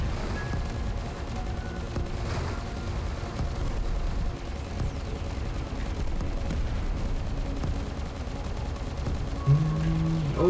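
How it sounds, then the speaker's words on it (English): Poop bombs exploding in the shooter game Dogos, a continuous low rumble of muffled blasts and gunfire-like thuds layered under game sound, fairly faint and steady throughout. "Here, have some poop bombs from us."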